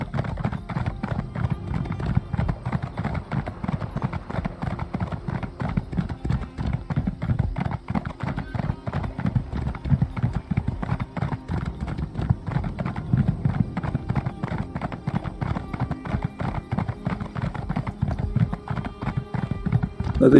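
A horse's hooves clip-clop in a fast, steady rhythm during riding in the video game The Elder Scrolls Online, continuous and close throughout.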